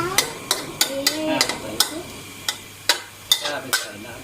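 Thai holy basil stir-fry is tossed in a hot pan after light soy sauce goes in. A metal spatula clanks about ten times in an uneven rhythm over a soft sizzle, with a brief voice in the background.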